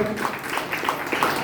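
An audience at a Hindi-language Sunday church service for Father's Day claps in a busy, uneven burst of applause, mixed with a voice talking over it.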